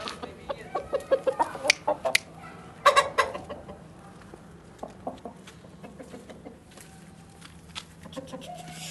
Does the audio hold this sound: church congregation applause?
no